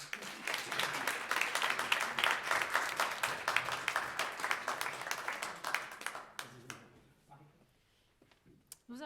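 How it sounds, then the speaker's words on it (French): A congregation applauds at an Easter 2021 church service, with steady dense clapping that fades out toward the end, followed by near silence and a few faint sounds. "On peut applaudir."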